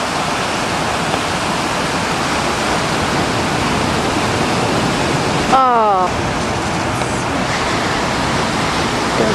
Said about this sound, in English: all those waves.